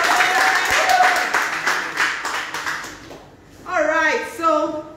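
An audience at a makeup masterclass claps steadily for about three seconds, fairly loud and close, before it fades and a voice speaks over the tail end.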